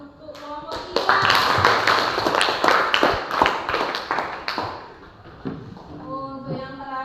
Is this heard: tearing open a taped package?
no